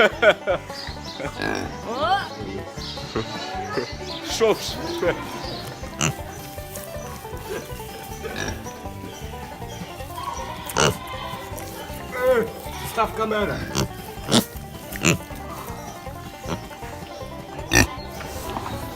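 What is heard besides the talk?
pigs grunting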